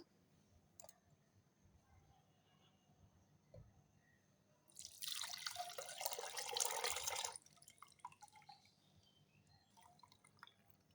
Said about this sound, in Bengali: এই দুধটা এখন উপর থেকে আমি ঢেলে নেব